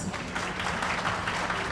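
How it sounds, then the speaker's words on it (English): Audience applause at an award ceremony, a brief dense burst of clapping from a large crowd heard at moderate distance, with no talk over it. "a round of applause for yourselves."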